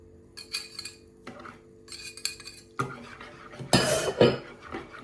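Eggs and milk seasoned with salt, pepper and paprika, stirred in a bowl: a utensil clinks and scrapes against the dish in short bursts, near and fairly quiet, with a louder rattling stretch toward the end.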